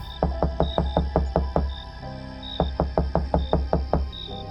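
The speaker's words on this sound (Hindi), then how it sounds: "और तभी उसके कमरे के दरवाजे पर धीरे धीरे नॉक हुआ।" Two series of slow, evenly spaced knocks on a bedroom door in a Hindi horror audio drama, fairly loud and close, with a brief pause between the sets and an eerie ambient drone underneath.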